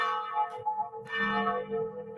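Church bells of a cathedral ring out to call people to mass, several strikes with long ringing tones that overlap and swell, heard from nearby beside the building with no talking.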